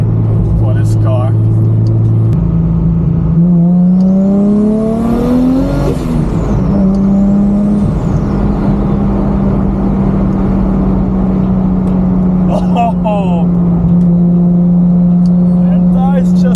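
A 500 hp RB25-powered Nissan S15 pulls hard on the highway, engine note climbing steeply through a gear then dropping at a shift and holding a steady drone, with turbo whistle and cabin voices reacting over it.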